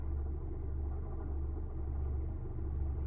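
Steady low engine rumble from a Nissan car idling, with a continuous drone and faint noise around the belt area, close and constant without talk.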